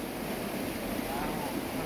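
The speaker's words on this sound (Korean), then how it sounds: "청량한 계곡의 바람소리, 물소리를 벗삼아 밀린 이야기를 나눈다" Wind and rushing water in a cool mountain valley stream form a continuous, fairly faint wash of broadband noise, steady without distinct events.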